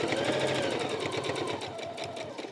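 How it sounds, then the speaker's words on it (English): A domestic sewing machine stitches down quilt binding toward a marked spot, a steady rapid mechanical whirring with a fast pulsing needle rhythm, close and continuous throughout. "Now I'll sew down to this spot here."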